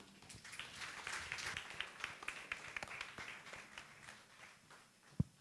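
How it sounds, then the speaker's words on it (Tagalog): Faint applause from a church congregation, a patter of many hands clapping steadily for several seconds, with one sharper clap near the end. "Malakas sa palakpak po!"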